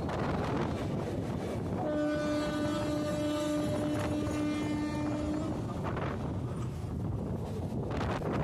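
Mumbai Mail, train 12809, approaching through a station with a long sustained horn blast over a loud, windy rush of the passing train, the roar continuing after the horn stops.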